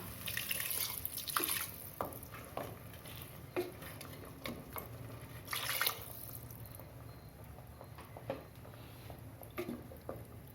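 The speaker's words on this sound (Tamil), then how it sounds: "மட்டன் முழுகிற அளவுக்கு தண்ணி ஊற்றிட்டேன்" Water splashes and gurgles steadily into a pot of mutton for curry nearby, with small clinks and drips over a low kitchen background.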